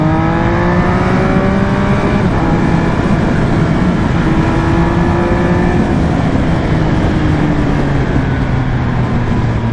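Steady, loud engine drone from a 2020 Triumph Speed Triple RS motorcycle while riding, a buzzy continuous tone with gently shifting pitch and constant wind rush throughout.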